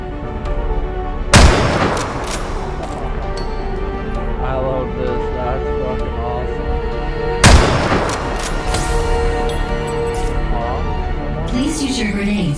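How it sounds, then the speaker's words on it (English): Two sharp, booming sniper rifle shots ring out about six seconds apart in a Ghost in the Shell video game, each loud and close over a steady bed of game music and a voice talking. "Please take the sniper rifle and eliminate the target."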